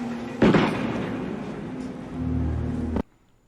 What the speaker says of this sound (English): how did no one hear that gunshot?